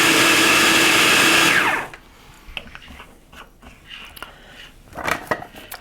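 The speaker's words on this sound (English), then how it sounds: "I'm just going to pulse it until it comes together" Countertop blender pulsing raw coconut flakes for a plant-based crumble, a loud grinding whir lasting just under two seconds that cuts off abruptly, followed by quieter scattered kitchen clatter and handling noises.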